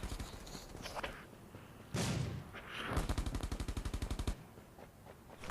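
Gunfire in the shooter game ROS, with a single loud shot followed by a rapid automatic burst of evenly spaced rounds, close and clear.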